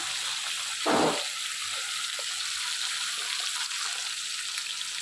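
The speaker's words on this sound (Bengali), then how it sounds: "কড়াইয়ে তেল দিয়ে দিচ্ছি একটু বেশি করে, মাছগুলো ভাজতে একটু তেল লাগবে। সব মাছগুলোই একবারে দিয়ে দিলাম।" Fish frying in a generous amount of oil in a wok: a continuous bright sizzle throughout, with one brief louder whoosh near the start, close and without talk.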